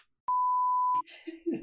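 A single flat censor beep tone lasting under a second, sharp and loud, followed by the start of a voice talking.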